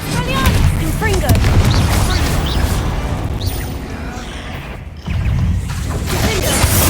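Repeated blasting-spell explosions in the Hogwarts Legacy video game, booming bursts and crackling impacts in quick succession over busy combat noise, with a short drop in the din just before five seconds before it resumes.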